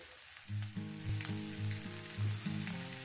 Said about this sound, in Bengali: এই ভাজার মধ্যে দিয়ে দেবো চিংড়িটা